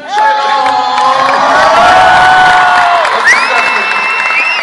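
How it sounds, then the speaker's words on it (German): A comedy-show audience in Offenburg cheers, whoops and claps for the performer Bülent, a loud, sustained crowd roar with high shouts rising over it from start to finish. "Und erstmal einen Applaus an Bülent"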